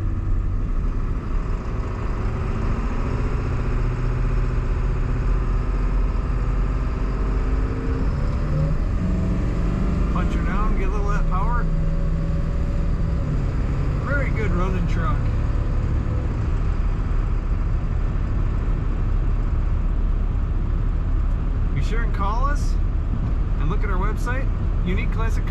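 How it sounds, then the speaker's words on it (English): Diesel engine of a 2001 Ford F-250 Super Duty XLT Lariat crew cab pickup running steadily throughout, a constant loud drone with brief tonal whines over it. "you do hear that diesel, which is natural"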